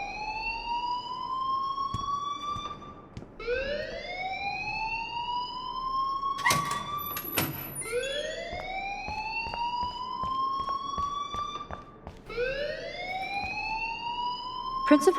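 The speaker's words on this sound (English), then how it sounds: "please turn off that alarm since that's your job" A school fire alarm in the video game Life Is Strange wails in repeated rising sweeps, loud and continuous, with brief clatters and voices breaking in underneath.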